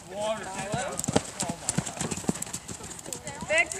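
Horse hooves clip-clopping in a quick trotting rhythm during a riding lesson, close and steady, with an instructor talking over the footfalls.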